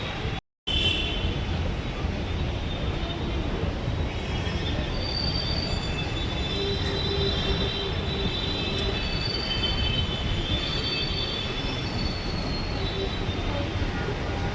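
Continuous loud rumble of a moving metro train, wheels clattering and faint squeals running throughout, steady and close.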